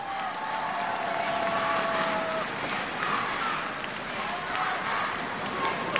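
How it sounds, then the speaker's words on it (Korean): Broad, sustained applause from an arena audience fills a closing ceremony at an esports league final, a dense even wash of clapping that runs throughout with no clear breaks. "다시 한번 격려의 박수를 부탁드립니다"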